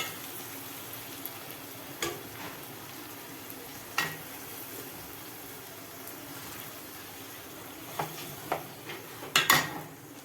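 Onions frying in a pan for mutton curry, a faint steady sizzle under low kitchen noise, with a few sharp clinks of a utensil against the pot near the end.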